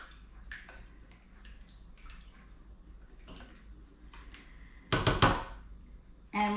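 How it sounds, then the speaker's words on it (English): A spoon stirs a rice and mushroom casserole mixture with pieces of butter in a dish, giving soft wet scrapes and light clinks, then a louder clatter of utensil against the pan near the end. "And you want to stir that together."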